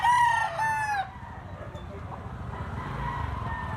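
A rooster crows loudly and close by, one long cock-a-doodle-doo in the first second, then fades into a steady background rumble and murmur.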